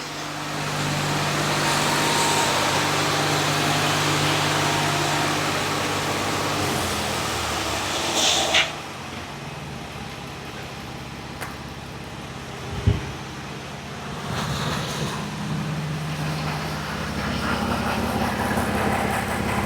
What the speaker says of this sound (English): I'm going to let it idle now.